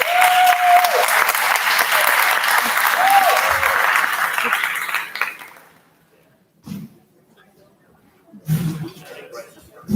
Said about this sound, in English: Please, round of applause for Ms. Christina Rizzo.